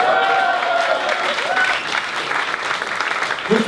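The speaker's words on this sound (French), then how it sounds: "Je vous demande d'applaudir bien fort" A studio audience at a glittery French variety show applauds loudly for a contestant, the clapping mixed with jingle music and tones at the start, and a voice coming in near the end.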